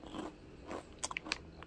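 Crisp bites into a crunchy cinnamon-and-sugar dusted snack, close to the ear: a few soft munches followed by a cluster of sharp, quick crunches.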